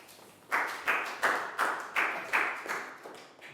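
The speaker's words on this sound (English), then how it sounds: "Big round of applause for Chew" A Year 4 science class claps in a rhythmic unison pattern, about seven evenly spaced sharp group claps over three seconds, close and moderately loud.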